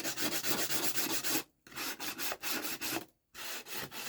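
Low-grit sandpaper rubs back and forth along the edges of wooden farmhouse decor to distress it, a close, loud rasping in steady strokes broken by two brief pauses.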